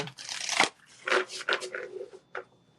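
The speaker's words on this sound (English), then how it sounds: "So I'm being told to just pull 1 or 2 cards from the Secret of the Ancestors deck. And so I'm just going to do a quick shuffle." Playing cards are shuffled close up in a few brisk bursts of papery flutter and snapping, separated by short gaps.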